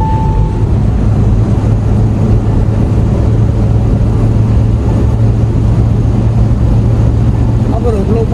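A tuned, modified 2023 Mahindra Thar accelerating in fifth gear on the Delhi–Mumbai Expressway, a loud steady engine drone with heavy road and wind rush from inside the cabin, while a voice talks over it.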